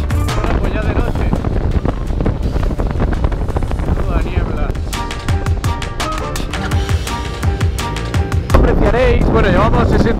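Loud, gusty wind buffets the microphone throughout, mixed with a roaring motorbike engine and rushing air, riding at speed on a road stage of a desert rally.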